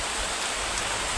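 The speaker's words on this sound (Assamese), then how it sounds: "এতিয়া বৰষুণ কমকৈ দি আছে" Light rain falls steadily in an outdoor setting, a soft continuous hiss of drops with no distinct impacts, moderately loud and unbroken, with no voices over it.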